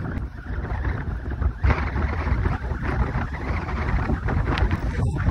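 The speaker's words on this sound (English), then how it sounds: "This wind is real disrespectful." Wind buffets an outdoor microphone in a steady, loud, low rumble lasting the whole stretch, with a few sharper gusts standing out and no voices.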